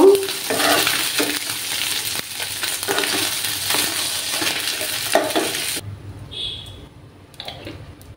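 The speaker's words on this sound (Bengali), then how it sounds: "মাছগুলোকে আবার আর একটু ভাজবো আমি" Tangra fish frying in a pan, a loud, close hiss with repeated stirring scrapes, then the sizzle drops away near the end, leaving faint clicks and a brief high tone.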